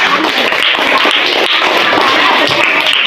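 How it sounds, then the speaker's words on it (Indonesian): Classroom applause for a student group during a lesson, a dense, steady patter of many hands clapping together for about three seconds without pause. "Kasih tepuk tangan dulu kelompok 2."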